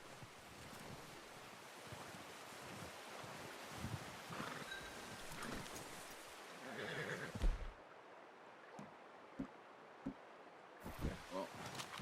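Horse whinnies in Red Dead Redemption II, a couple of mid-distance neighs rising over a windy outdoor ambience, followed by a few soft thuds.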